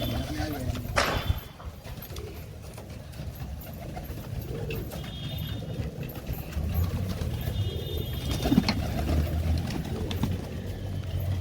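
Pigeons kept by a fancier for fighting, cooing and shuffling close by in a crowded loft, with soft hoof-like clatter and scattered rustling throughout.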